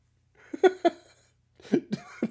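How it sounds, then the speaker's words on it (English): A few short, breathy coughs or laugh-like bursts come in two small clusters, close and fairly quiet, separated by a pause. "I had to cough again on that one."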